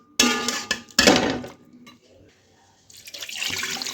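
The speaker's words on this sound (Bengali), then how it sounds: "আর একটু জল অ্যাড করে দিলাম।" Water added to a pot of boiling mutton: a clank of metal, then a splashing pour that fades into a quiet simmer before a hissing, bubbling wash returns.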